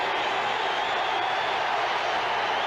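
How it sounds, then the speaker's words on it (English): A big stadium crowd at a 1978 NFL game between Seattle and Oakland keeps up a steady, loud, hissing roar from start to finish, with no distinct cheers standing out. "Now Zorn's asking for the big crowd to quiet down."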